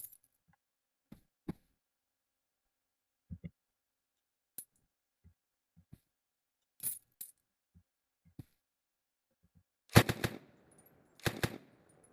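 Gunfire in the game One-armed Robber: sparse faint clicks and single shots give way to two loud, rapid bursts of automatic fire near the end, with no talking over them.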